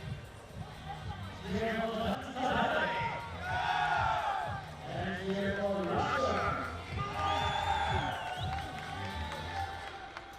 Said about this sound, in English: you can hear in the background the Russian team cheering their team on, willing them to get those 10s